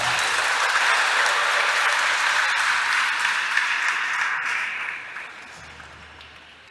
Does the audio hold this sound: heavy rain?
no